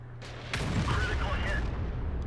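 A tank cannon shot in World of Tanks, fired at an immobilized enemy tank: one sharp booming blast at the start, followed by a sustained rumbling roar with battle noise and no talking.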